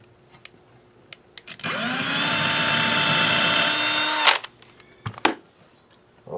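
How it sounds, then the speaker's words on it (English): A power drill bores a hole into a guitar body in a single steady run of about three seconds, a loud close whine that spins up and then stops abruptly, with faint handling clicks before and after. "it'll be in perfect location for me to drill the second hole"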